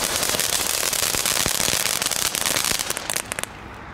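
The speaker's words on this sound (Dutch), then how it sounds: "de crackling vond ik nog best goed op zich" Store-bought Lidl consumer fireworks, set off with extra crackers, give a dense, continuous crackle of rapid close pops that thins into scattered bursts near the end.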